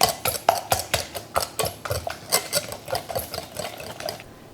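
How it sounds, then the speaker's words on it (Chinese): Muffin batter ingredients are whisked in a bowl, the metal whisk ticking against the sides in a quick, irregular clatter of close, crisp strokes with no talking. "然后利用一个打蛋器把它搅拌均匀"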